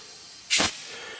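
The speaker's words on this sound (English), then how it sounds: "Now when you're pumping your tire up" A single short hiss of air being pumped into a bicycle tire fitted with an inner tube, one brief burst standing out over a steady background.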